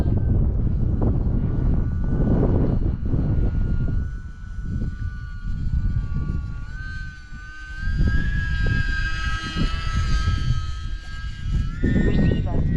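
An E-Flite Valiant 1.3M electric RC plane flies overhead, its motor whine rising and falling in pitch as it passes at varying distance, over steady wind buffeting and low rumble, with no talk.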